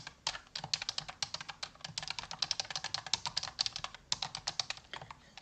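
Rapid, steady typing on a computer keyboard, dense clusters of close crisp key clicks running almost nonstop with one brief pause, no voices.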